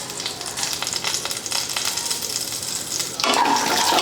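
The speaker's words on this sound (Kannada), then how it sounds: "ಇವು ಜೀರಿಗೆ ಸಾಸಿವೆ ಎಲ್ಲ ಸಿಡ್ದಾವು" Mustard seeds and cumin sizzling in hot oil for tempering pudina mint rice, a steady crackling fizz with scattered pops that turns suddenly louder and denser near the end, close and without speech.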